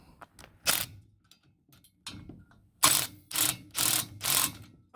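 A wrench ratchets while loosening a bolt on a log splitter outdoors in winter: several loud, close bursts of rapid clicking, a couple of short ones and then a quick run of four, with quiet gaps between.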